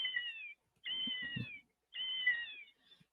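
Three drawn-out meows from a black cat, played as a spooky-season sound effect, each call clear and fairly loud with short silent gaps between them and no talking.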